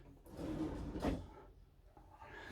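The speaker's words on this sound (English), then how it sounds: "And under this we've got some drawers, and this one is a different shape" A kitchen drawer beneath the molded sink of a Concorde Carver Centurion luxury motorhome slides open with a soft rolling rumble and a quick thud partway through, quiet and close in a still interior.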